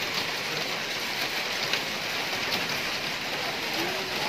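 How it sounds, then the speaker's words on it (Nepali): Hail and rain fall steadily outdoors, a continuous dense patter and hiss with no breaks, moderately loud and even throughout. "ओ असिना पो पऱ्यो त असिना पानी"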